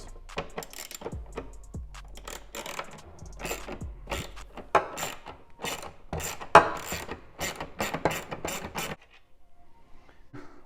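A driver rattles in quick, uneven ratcheting clicks while T20 Torx screws come out of the mass airflow sensor on a BMW M340i B58 intake. The busy mechanical clatter runs close for about nine seconds, then stops.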